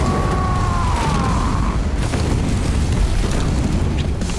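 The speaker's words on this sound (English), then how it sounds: "The rocket launcher is super effective against his shield." Rocket launcher blasts strike a boss's shield in Warhammer 40000: Shootas, Blood & Teef. Loud, continuous booming explosions roll without a break. A brief whistling tone fades early on, and no one talks.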